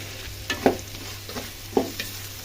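Spice masala for a desi-style pasta fries in oil in a pan while being stirred, with a soft continuous sizzle broken by a few distinct scraping strokes close by.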